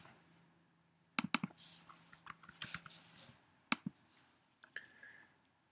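Typing code on a computer keyboard: bursts of crisp key clicks in short irregular clusters, close and fairly quiet over a soft background hum, with no voices.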